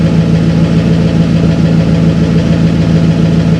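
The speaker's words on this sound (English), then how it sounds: "Can you hear that shallow tick," A Honda Ridgeline engine idles steadily up close near the exhaust, a loud constant rumble with a fine, rapid, regular ticking woven into the drone.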